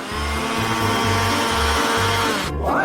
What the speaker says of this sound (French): Et je vais le faire rapidement avec un mixeur.